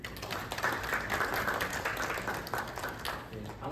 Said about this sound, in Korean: 잠깐만 일어나시고 환영의 박수 보내주시겠습니다